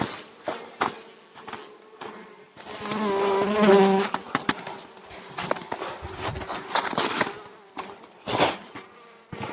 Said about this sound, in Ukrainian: тут бджола трошки неспокійна